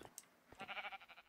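A Minecraft sheep bleats once, a short wavering electronic baa following a few faint clicks, alone and fairly quiet.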